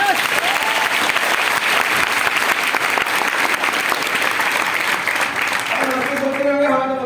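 Loud, sustained applause from a large audience at a motivational training workshop fills the room for several seconds without a break, dense and close, before a voice starts to speak over it at the end.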